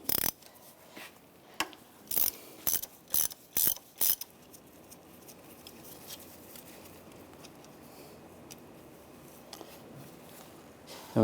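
Ratchet wrench loosening a banjo bolt on the turbocharger of a 2011-2015 Chevrolet Cruze: a run of loud, close bursts of rapid ratcheting clicks over the first few seconds, then quieter handling noise and faint clatter.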